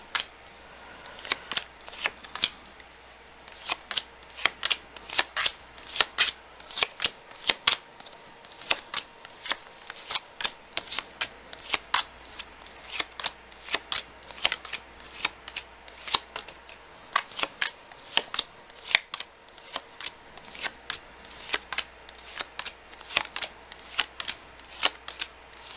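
Tarot cards shuffled by hand: crisp riffling snaps and flicks come in irregular bursts close to the mic, sometimes clustered and sometimes spaced by short pauses, with a faint low hum beneath and no talking.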